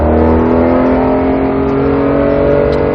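A Porsche GT3 RS engine roars loud and close as it accelerates hard on a race track, a sustained high-revving note with no talk over it.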